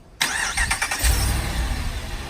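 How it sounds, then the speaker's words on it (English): A truck engine starts by remote start with a quick crank that catches into a steady, rumbling idle. It is close, fairly loud and heard alone. "That should crank up the vehicle."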